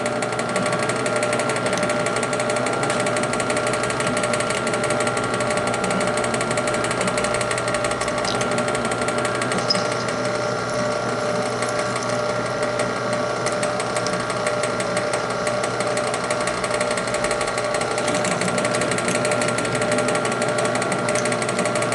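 A drill runs continuously through a center-punched, oiled through hole in metal held in a vise on sacrificial wood for a stand build, producing a loud, steady mechanical whir with a rapid buzzing chatter throughout.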